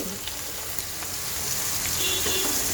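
Bay leaf, dried chili, whole cumin and chopped bottle gourd sizzle in hot oil with fried stinging catfish, a continuous crackling fry that grows slightly louder toward the end.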